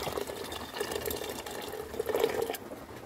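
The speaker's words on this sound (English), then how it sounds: "So let's pour with hot distilled water here" Hot distilled water pours over silver chloride residue in a lab vessel, a soft continuous trickling and splashing at close range, fairly quiet with slight surges in flow.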